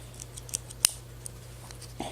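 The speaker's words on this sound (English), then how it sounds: "Then over here, you have some scissors." Spring-loaded scissors on a Leatherman Squirt PS4 multi-tool snip in short, sharp metallic clicks, one crisp snap standing out among a few lighter ticks over a low steady hum, close and fairly quiet.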